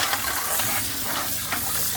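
Tap water running over snail shells in a sink as they are rinsed for escargot, a steady close hiss of flowing water with brief splashy surges.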